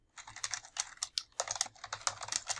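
Rapid typing on a computer keyboard, close and crisp, with bursts of clattering keystrokes separated by short pauses.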